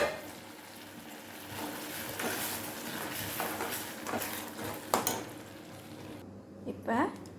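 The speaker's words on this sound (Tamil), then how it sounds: "இப்போ நல்லா கேரமலில் போட்டு கிண்டிட்டோம்." Cooked sago is stirred into caramel in a pan for a sago cake. Moderate scraping and stirring run over a low sizzle, with a few sharper utensil knocks near the end.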